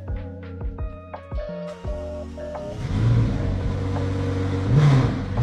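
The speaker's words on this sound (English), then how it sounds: "I'm gonna come open up this car right now and start it up for you guys." A McLaren in a mansion garage in Dubai: a series of electronic chimes and beeps comes first, then the engine fires up with a deep, loud rumble and a couple of sharp rev swells echoing in the enclosed space.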